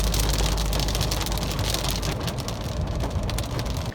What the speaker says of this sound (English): Yay, it's raining.